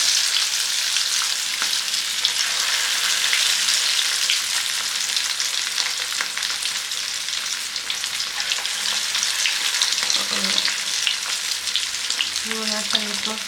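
Chicken lollipops fry in hot oil with a steady, loud, crackling sizzle that runs unbroken throughout, a few soft clinks near the end and no one talking.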